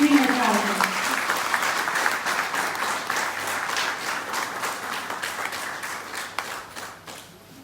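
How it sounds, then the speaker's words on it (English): An event crowd applauds a speaker at a Jawan event, with a brief voice at the start before steady, dense clapping from a large audience that continues evenly and gradually softens. "Ladies and gentlemen, a big round of applause for Mrs. Subhashri Natarajan."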